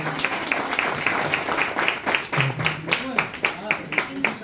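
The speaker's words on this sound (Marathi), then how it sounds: "जोरदार टाळ्या वाजवण्यात आली" Audience applause at a bank branch renovation ceremony in Pune, a steady run of dense clapping that continues evenly throughout, with a few voices sounding faintly beneath it.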